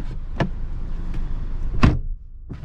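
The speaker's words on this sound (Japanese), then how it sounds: "でドア閉めた音、" A Mercedes-Benz CLA200d Shooting Brake car door shuts with a single solid thump, preceded by a couple of lighter clicks and followed by another soft knock, close by with no talking.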